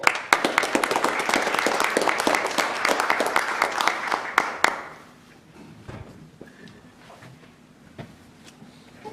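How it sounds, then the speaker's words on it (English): Audience applause at a county commissioners' meeting, a loud, dense round of clapping that runs for several seconds, then stops abruptly, leaving quiet room tone with a few scattered thumps. "Give him another round of applause."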